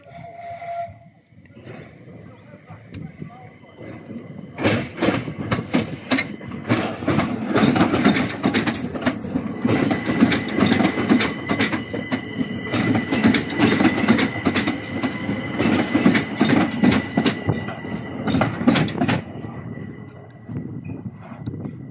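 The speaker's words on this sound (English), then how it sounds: "Southeastern class 3-5 service, 3-5-9-5 and 3-5-7-1. Starting here at Dover Priory for London Charing Cross. Departing now." A Southeastern class 375 electric multiple unit departing Dover Priory station, a quiet start building into a steady loud rumble with rhythmic wheel clatter and squealing for most of the clip before easing off near the end.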